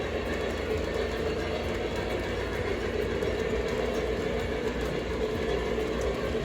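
Steady rumble and clatter of a Lackawanna Camelback model train with beer cars running continuously on a home layout, close and constant with no talking.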